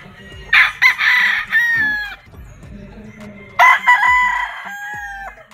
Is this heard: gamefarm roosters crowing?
yes